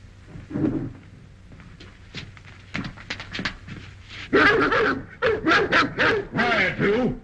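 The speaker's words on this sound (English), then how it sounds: "Even the dogs don't like him." Dogs bark and whimper in a short burst of yips and whines that grows louder toward the end, with a low background hum and occasional thumps.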